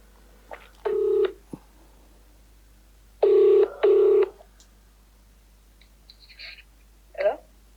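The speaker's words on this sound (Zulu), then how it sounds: "Ngiyacela nisifonise." A phone call is placed: a few short dialing beeps are followed by paired ringback tones. Each burst is clear and separated by quiet gaps, with faint background sounds between them.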